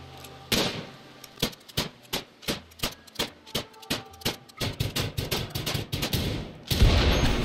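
Rapid gunfire from a colonist's gun in the colony game Rimworld, a string of sharp, evenly spaced shots close up, about a dozen, with a denser burst near the end and no talk.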